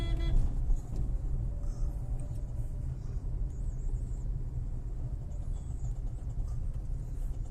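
A car drives along a road, heard as a continuous low engine and tyre rumble from inside the vehicle. The noise stays steady and moderately loud throughout, and no one speaks.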